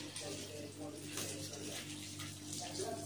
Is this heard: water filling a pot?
yes